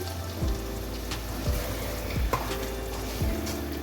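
Steady sizzling of a chickpea curry frying in a pan, with occasional soft stirring scrapes and clinks at irregular intervals.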